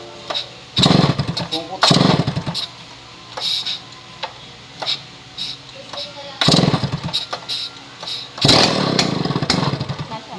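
A Stihl 070 chainsaw with a 36-inch bar sputters and fires in loud bursts, catching and revving unevenly as it starts. The ragged engine roars come repeatedly, close by, over a steady idle-like background.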